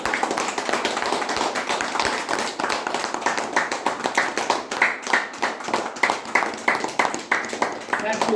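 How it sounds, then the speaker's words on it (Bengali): Audience clapping for a teacher at a celebration with a cake, a steady run of dense claps over several seconds that swells toward the end, with voices talking underneath. "চলো এটা বড় করে করতালি হোক"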